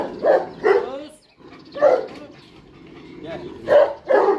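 A dog barking nearby in pairs of loud, sharp barks separated by short pauses, with someone speaking in between.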